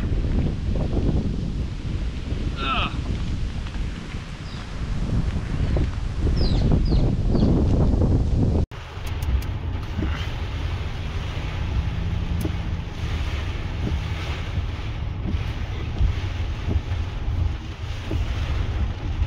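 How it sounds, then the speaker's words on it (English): Strong wind blows outdoors at a drone flying spot as rain begins, roaring and buffeting the microphone in a loud, continuous low rumble that shifts abruptly partway through, with no talking. "it started raining and it's actually really windy too"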